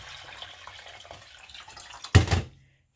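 Stinging nettle leaves are washed in water before cooking: a quiet wash runs in the background, then a short, loud splash of water near the end that stops abruptly into silence.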